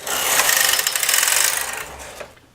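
A mid gauge knitting machine carriage slides right to left across every other needle, making a close, continuous whirring rasp for about two seconds that then fades out.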